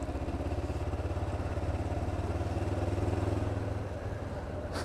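A small, tiny-framed motorcycle running on its reserve fuel, with a steady close engine drone and low rhythmic pulsing that holds at an even level throughout.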